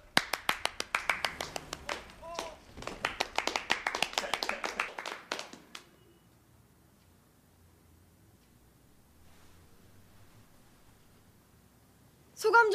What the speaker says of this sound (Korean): 자, 그런 의미에서 박수!